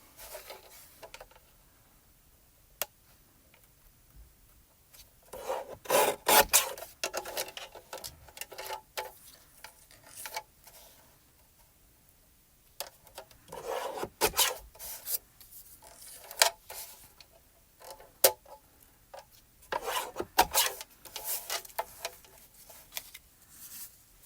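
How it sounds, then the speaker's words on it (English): A paper trimmer slicing a card sentiment gives scraping, rasping blade strokes in several short bursts with quiet pauses between, close and fairly soft. "Trim it with the trimmer."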